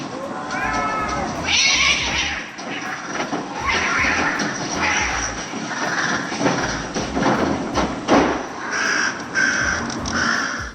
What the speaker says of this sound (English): The crow's out here trying to break up the cat fight, but it's just getting smacked around.